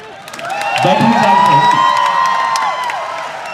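A crowd at the Kurukshetra Ratnavali festival erupts in loud cheering, whooping and clapping for a visiting Bollywood actor, a sustained roar swelling close and full.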